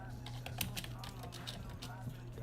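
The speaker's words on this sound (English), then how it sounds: "Sorry, I'm just typing this heading." Typing on a computer keyboard, a continuous patter of light key clicks heard close under a steady background hum.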